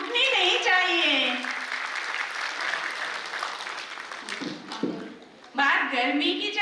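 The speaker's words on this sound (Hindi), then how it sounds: "अगर हमारे बच्चों की फीलिंग्स आप तक प्रॉपर पहुंच रही है तो तालियों की आवाज रुकनी नहीं चाहिए।" Parents at a school annual function clapping, dense sustained applause that fills the space, dips briefly near the end and then swells again, with a voice heard over it at the start.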